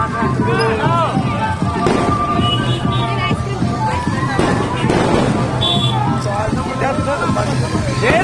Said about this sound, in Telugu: అక్కడ మందు కాల్పులు కాలుస్తున్నారు